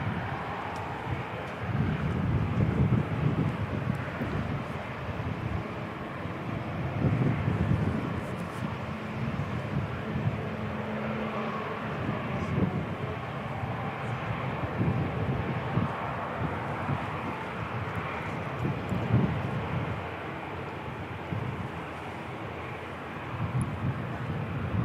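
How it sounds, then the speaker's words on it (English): A Boeing 747-400 freighter starts its jet engines at Christchurch Airport, heard from a distance as a faint, steady low rumble and whine mixed with wind buffeting the microphone. "Engine start."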